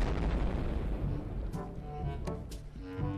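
A self-destruct blast in the Happy Wheels ragdoll game: a dense, loud rumbling boom fills the clip, with a few sharp bursts cracking through near the end.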